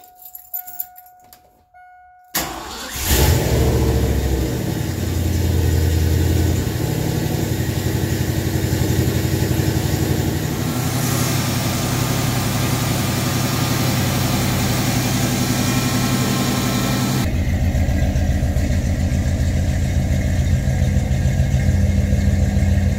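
A 1987-97 Ford engine, just fitted with a new throttle position sensor, cranks briefly after a chime, catches and settles into a steady loud idle, with the pitch dropping partway through.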